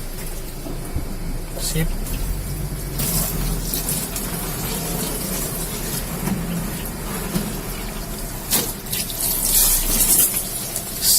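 Water spraying and splashing over a car inside an automatic car wash in Makassar after soaping, a loud continuous rushing wash with bursts of harder spray, and someone speaks briefly near the end.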